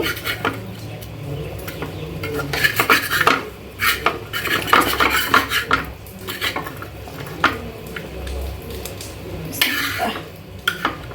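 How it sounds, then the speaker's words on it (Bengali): Metal utensils clank and scrape against a pan in bursts as pieces of fried tilapia are dropped into curry and stirred over a low simmering background. "এখন এই যে ভাজা মাছ দিয়ে দিব"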